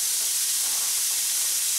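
Minced pork sizzles in a hot, heavily oiled wok with a steady, loud, close hiss and spitting fry that holds unbroken throughout.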